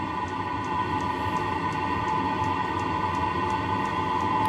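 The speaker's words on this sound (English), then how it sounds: "Most of that noise there is combustion" Steady close combustion rumble from a 5 kW Chinese diesel heater running without its exhaust silencer, a constant droning roar with faint periodic ticks and no voices.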